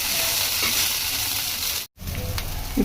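Butter-topped Davangere-style benne dosa sizzles on a hot griddle, a loud, steady hiss of frying fat that cuts out briefly and then resumes.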